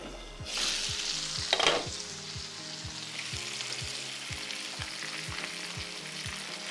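Garlic potato bites sizzle steadily in a frying pan, a constant crackling hiss with a brief louder burst of stirring or spattering early on, alongside faint periodic low ticks.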